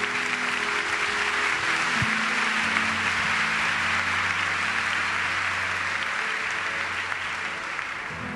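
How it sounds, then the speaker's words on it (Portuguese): An audience at a Portuguese-language Catholic talk on marriage applauds continuously, a dense, even wash of clapping filling the room with no voices heard. "Pode aplaudir para valer."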